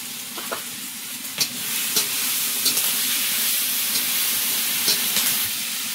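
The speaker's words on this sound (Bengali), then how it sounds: "সামান্য একটু জল দিয়ে মশলাটা কষিয়ে নেব" Masala of turmeric, salt, green chili, tomato and cumin sizzles steadily in a hot pan, a constant loud hiss broken by occasional sharp clicks and scrapes from stirring.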